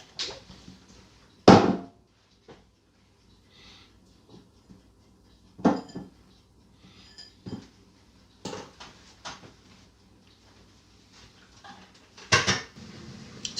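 Golden unrefined castor sugar stirred by hand in a bowl, heard as sparse, separate clinks and scrapes of a utensil against the bowl, a few sharp knocks spread across quiet gaps, close and moderately loud.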